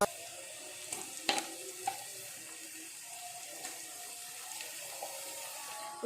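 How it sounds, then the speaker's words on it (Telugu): Ginger garlic paste frying with golden-browned onions in a pan for a chicken curry: a faint, steady sizzle with a few light stirring clicks and scrapes scattered through it, no voices. "అల్లం వెల్లుల్లి పేస్ట్ ఫ్రై అయ్యే వరకు కొంచెంసేపు ఫ్రై చేసుకోవాలి."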